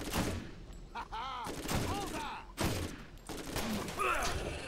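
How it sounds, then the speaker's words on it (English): Rapid gunfire from a fast-firing gun in the video game Borderlands, dense continuous shots running through the clip, loud and close, with game voices and effects mixed in. "I'm burning through so much ammunition. That's what a faster firing rate does to you."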